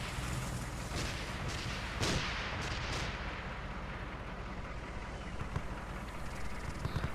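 Distant gunfire in the video game TOG Wasteland during an assault on a fire station base, a few muffled shots sounding over a steady wash of wind-like ambient noise, with no speech.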